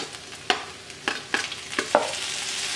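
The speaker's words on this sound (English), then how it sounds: "I'll mix it in." A spoon mixes oregano into ground beef in a pan, the beef sizzling steadily while several distinct scraping, clacking strokes land at uneven intervals, close and clear with no talking.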